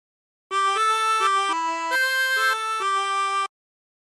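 A 16-hole tremolo harmonica plays a short melody of about eight reedy, buzzing notes in even steps, alone and close, starting and stopping cleanly.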